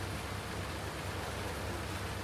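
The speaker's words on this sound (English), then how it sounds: "It's raining." Steady rain on a farm, a dense, even hiss of falling water with no pauses and no voices.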